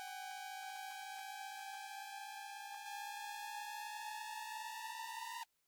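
Thin, very high synth riser in an electronic music remix build-up, a steady stack of bright tones slowly climbing in pitch for about five seconds, loud and alone, cutting off abruptly at the end.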